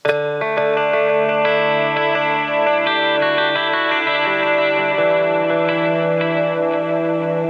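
Sustained electric guitar chords drenched in delay and reverb, with a slightly overdriven, shimmering tone ringing out continuously.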